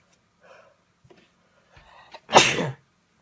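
One loud, close sneeze bursts out after a few soft breaths and small throat sounds, coming from a man who has a cold.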